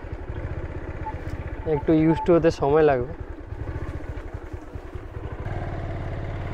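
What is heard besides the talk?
motorcycle turning around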